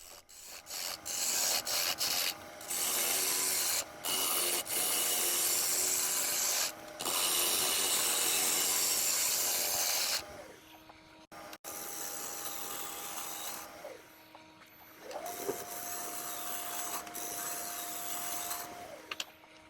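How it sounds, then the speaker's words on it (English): Wood lathe turning a vase blank with spindle roughing and bowl gouges, giving loud, close scraping and rasping cuts in bursts separated by short pauses, over the steady hum of the spinning motor. "I'm using a combination of my spindle rough and gouge and a bowl gouge"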